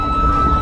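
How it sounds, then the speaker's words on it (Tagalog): A loud, steady siren wails at Ayungin Shoal, its sustained tone holding unbroken over choppy low rumble for the whole short stretch. "umaalingaw ang malakas na sirena"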